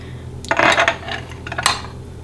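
A metal spoon scrapes and clinks against a jar and slices of bread while marmalade is spread for bread and butter pudding, with two close bursts of scraping and a sharp clink.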